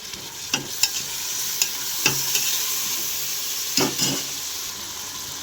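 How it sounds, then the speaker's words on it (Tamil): Tomatoes sautéed in a pan for a goat-head curry, under a steady sizzle broken by a series of sharp ladle knocks and scrapes at irregular intervals, close and clear. "அடுத்து தக்காளி சேர்த்து அதையும் கொஞ்சம் நல்லா வதக்கி விடுவோம்"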